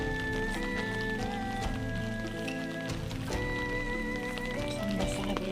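Steady rain falls continuously where small turtles are being fed, a dense even patter throughout, mixed with a constant droning background tone and no voices.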